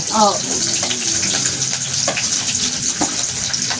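Onions frying in hot oil give a steady broadband sizzle throughout, with a few brief clinks and a faint voice early on.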